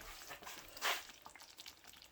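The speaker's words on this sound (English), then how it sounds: "me stir my pecans real quick. They're still turning into candied pecans" Candied pecans are stirred in a hot pan, giving a soft steady sizzle with light scraping and one brief louder hiss partway through, with no talking.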